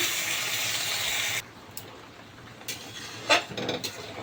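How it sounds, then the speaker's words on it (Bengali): Lukewarm water poured into a pan of fried potato and pointed gourd, a sizzling hiss that cuts off abruptly, then light bubbling and a few soft clinks of utensils against the pan. "এবার আমি হালকা উষুম গরম জলটা দিয়ে দেবো।"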